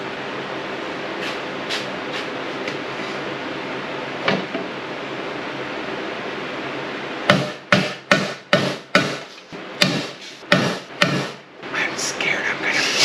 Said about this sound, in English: Probably should have grabbed a hammer.